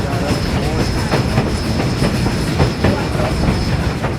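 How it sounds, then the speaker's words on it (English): Train ride behind a steam engine on a tourist line near Monticello, with steady loud rumble of railroad cars and rhythmic clickety-clack of wheels over rail joints throughout, no talking. "when you're riding behind a steam engine"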